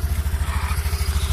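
A Honda Activa 125 BS6 scooter engine runs close by with a steady, rhythmic low putter, revved lightly with no talking over it.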